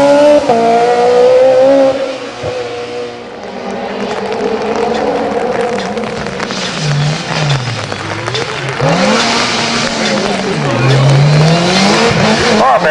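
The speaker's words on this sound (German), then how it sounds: "Drifting Vorleitern hier von Markus Abela in der ersten Kehre. Etwas zu schnell rein, aber gleich wieder das Fahrzeug stabilisieren können" A rally car takes the first hairpin of the Auersbach hill climb in 2012, with its engine revving loudly and wavering as it drifts through. A commentator talks throughout and spectators are heard.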